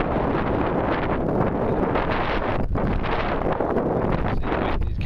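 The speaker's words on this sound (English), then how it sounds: "See, the wind is getting up now." Strong outdoor wind buffeting a microphone during a metal detecting hunt in a field, a loud, constant roaring rumble throughout with no talk.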